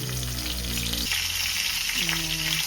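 Fish frying in a pan gives a dense, close crackling sizzle, steady throughout, while a low hum briefly rises and falls underneath.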